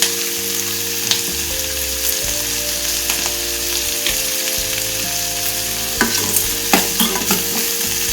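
Mushroom gravy ingredients sautéing in a pan, a steady close sizzle with repeated scraping stirs and occasional spoon clatters throughout, with no talking.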